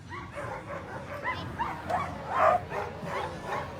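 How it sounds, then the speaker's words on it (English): Sled dogs at the start line of the Fur Rondy open class world championship race yip and bark excitedly in a busy, overlapping chorus of short outdoor barks and whines. "you want an excited dog"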